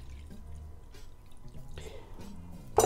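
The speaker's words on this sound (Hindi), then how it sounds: "और फिर साथ ही मैं डाल दूंगी 1 कप इसमें पानी" Water is poured into a pan of milk powder in a home kitchen, faint trickling and dripping that ends in a brief louder splash.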